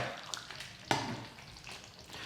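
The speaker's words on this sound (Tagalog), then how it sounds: "Hahaluin ko lang muna to." Pork menudo stirred in a pan, a spoon scraping and clacking once sharply against the metal amid a steady close sizzle, with no voices.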